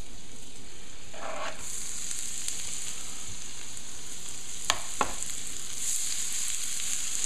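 Shallots frying in a lot of butter in a pan over a flame, giving a steady, fairly loud hiss of sizzling throughout with a couple of brief sharp clicks and crackles, no talking.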